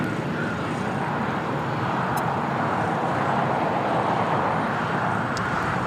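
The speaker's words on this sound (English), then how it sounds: "China Airlines cargo 777 freighter making that early, well, not early, but earlier turn before going to Lima on the Alpha 8" Distant jet noise from a China Airlines Cargo Boeing 777 freighter taxiing at LAX, a steady broad roar that holds even throughout, with no voices.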